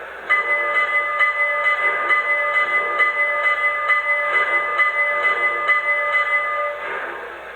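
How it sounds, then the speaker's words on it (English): A Lionel Empire State Express model train bell rings steadily in a quick, even rhythm, the ringing tone sustained for several seconds before cutting off. "Now let's hear the bell."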